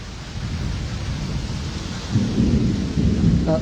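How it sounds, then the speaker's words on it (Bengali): A heavy thunderstorm over Habiganj town brings a dense, continuous roar of pouring rain, recorded from indoors. A deep rumble of thunder swells partway through. "আমরা ভেতর থেকেই ঝড় বৃষ্টির যে পরিমাণ সেটি আপনাদেরকে দেখানোর চেষ্টা করছি"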